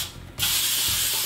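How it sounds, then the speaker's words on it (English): Non-stick cooking spray hisses from a can into loaf pans in a single sustained burst, close and loud after a brief quiet start. "I like to use this non-stick cooking spray"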